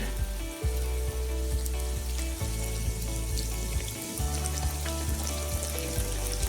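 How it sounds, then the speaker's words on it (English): Donuts fry in hot oil, giving a steady close sizzle and crackle with a few soft clunks as pieces shift, no talk. "So this is how we are going to fry all our donuts."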